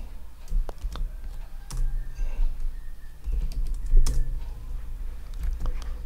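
Keys clatter on a computer keyboard in irregular bursts of close, crisp taps over a low steady background hum, with no speech.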